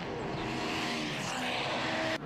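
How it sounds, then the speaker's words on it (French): Two Ferrari race cars battle for the lead in an endurance race at Mugello, their engines giving a steady, loud racing roar that continues without a break. "une lutte très italienne pour la première place avec deux Ferrari en bataille, deux champions, Andrea Montermini"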